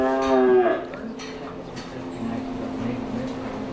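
Cattle moo loudly and close by as they come into a barn, one long harmonic bellow at the start, then a steady low lowing with some quieter moos in the background.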